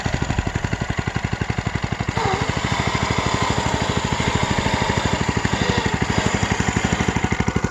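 Homemade wooden remote-control car with linear actuator steering, driving with a steady, fast-pulsing motor drone and rattling clatter, loud and close throughout with no talking.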